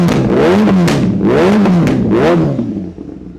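A 2018-model superbike engine fires up and revs loudly three times in quick succession, each rev rising and falling, then settles and fades near the end.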